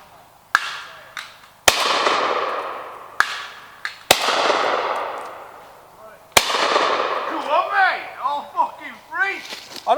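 Shotguns fire at a clay shoot in the woods: six sharp, loud cracks, each trailing off in a ringing echo through the trees, with voices talking between the later shots.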